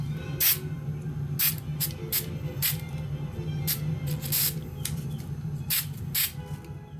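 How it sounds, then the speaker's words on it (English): Short hissing bursts of 3M77 spray adhesive being misted onto HO scale model trees in a workshop, several separate puffs spaced irregularly over a low steady room hum. "just a little light spray of adhesive"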